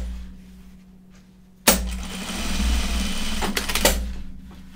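A sewing machine stitching Burnside bib overalls starts with a sharp clunk, then runs for a few seconds with a close, steady whir and a few small knocks before winding down.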